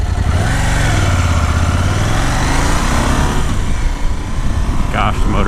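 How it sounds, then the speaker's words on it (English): A KTM 790 Adventure R runs at a steady, smooth drone while riding, loud and close, with heavy wind rush mixed in and a slight rise in pitch partway through. "Gosh, the motor's so smooth."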